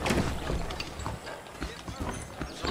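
Horse hooves clip-clop at a steady walking pace in the Western video game Red Dead Redemption, moderately loud and close, with a voice speaking over parts of it.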